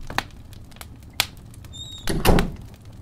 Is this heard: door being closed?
yes